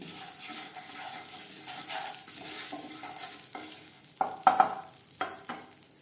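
Half a spoon of whole cumin seeds sizzles in oil in a frying pan used earlier to fry pointed gourd. A steady soft crackle builds into louder spattering bursts, joined toward the end by a few clinks of a utensil against the pan.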